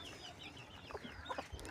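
Clucking from a small backyard flock of hens and roosters, a few short calls rising over a steady low background, moderately near and fairly faint.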